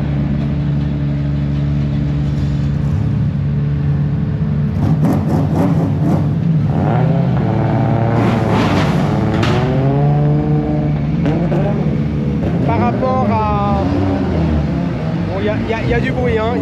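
Loud engines of drift cars rumble continuously at a drift event in Calmont, France, revving and accelerating midway through as their pitch climbs, while voices talk over the roar.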